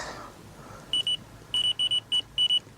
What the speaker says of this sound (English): Buzzers off.